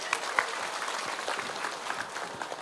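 A group of children clap their hands at an afternoon Quran study gathering, a loose, uneven patter with a few sharper individual claps standing out, fairly close and moderately loud, with faint voices mixed in.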